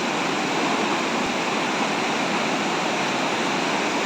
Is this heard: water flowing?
yes